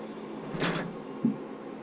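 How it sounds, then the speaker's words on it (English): Cargo bay door on a double decker coach shutting tight against its seals, a soft sliding rush followed by a single faint muted thud, close by. "closes nice and tight on the seals,"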